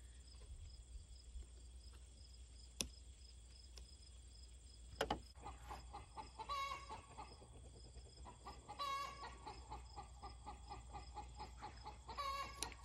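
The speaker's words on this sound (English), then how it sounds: "Sounds like my chickens are getting excited." Chickens cluck in short bursts at a moderate distance, set against a constant insect-like drone and a few sharp taps.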